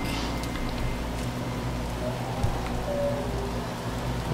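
Rain falls in the video game No Man's Sky, a steady, dense patter and hiss on surfaces that stays even and moderately loud throughout, with no voices over it.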